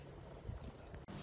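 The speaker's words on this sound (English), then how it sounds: "It's a windy one this morning" Gusty wind buffets the microphone in low rumbling bursts on an early morning in the Delta, with a brief dropout near the end.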